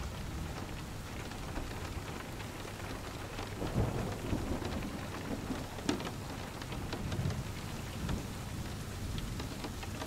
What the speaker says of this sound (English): drips of rainwater slide down the roof, creating a dull tapping sound